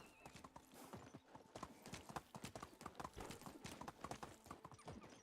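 Horse hooves clip-clop steadily in Medieval Dynasty, a rapid rhythm of close, crisp hoofbeats on hard ground running the whole time, with a brief whinny mixed in.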